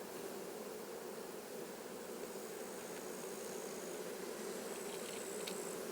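A dense, steady hum of many honey bees buzzing together at an open hive, continuous and close, with no voices.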